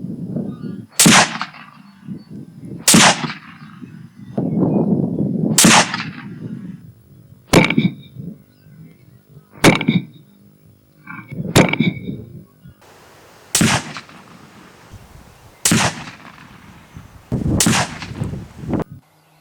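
Eight loud, sharp rifle shots from a Ruger M77 All-Weather chambered in .30-06 Springfield with a NiteSite NS200 night sight, spaced every two seconds or so outdoors, each with a short rumbling echo.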